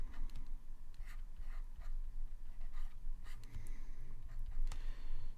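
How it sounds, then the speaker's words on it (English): A pen writes the product rule out by hand, with close scratchy strokes in short irregular bursts over a steady low background hum. "me write the product rule."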